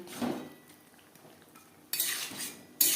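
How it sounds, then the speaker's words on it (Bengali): Fish heads with bottle gourd stirred in a pot, a soft scrape followed by a quiet pause, then louder metallic spoon scrapes and clatter against the pot near the end, close up. "লাউর সাথে মাছের মাথা বেশ ভালো করে মিক্সড করে দেবো"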